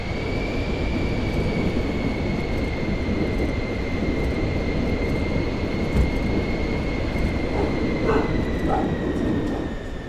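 A small airplane revving and rolling for takeoff in Microsoft Flight Simulator 2024, a loud steady engine roar with broadband rumble and a constant whine held throughout, alone without talk.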